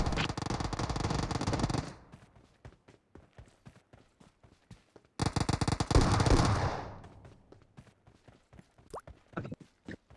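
Gunfire in PUBG Mobile squad gameplay at Pochinki: two dense bursts of rapid shots separated by scattered single cracks and clatter, loud and close, followed by fading sparse pops.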